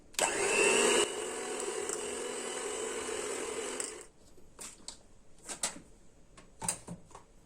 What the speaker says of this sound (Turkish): şimdi kremamızı iyice çırpıyorum